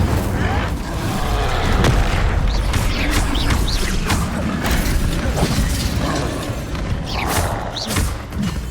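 An Incendio fire spell cast during a duel in the video game Hogwarts Legacy bursts with heavy thumps and booms over a loud, dense bed of combat noise, with voices speaking at times.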